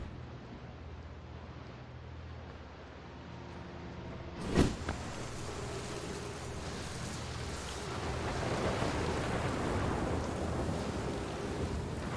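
Rainstorm with thunder on an island in the video game Outer Wilds: a steady hiss of heavy rain, then a sharp close thunder crack partway through, after which the downpour grows louder and denser.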